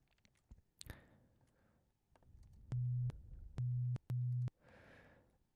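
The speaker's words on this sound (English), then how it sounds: "to begin with, we're just going to use a sine wave" Three steady low synthesized sine tones from a kick drum synthesis oscillator, each held about half a second with short gaps, after some faint clicks and rustling.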